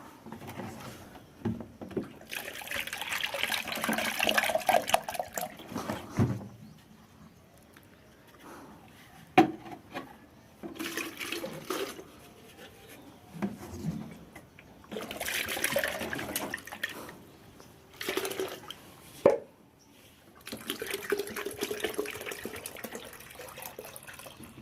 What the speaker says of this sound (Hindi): इसमें अब हम डालेंगे पानी।